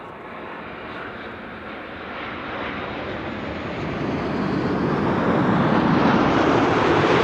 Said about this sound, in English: And then Brer 175 arriving from Bremen is approaching the Kaagbaan but from the north.